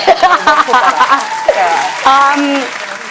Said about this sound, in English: we'll have some people clapping in the back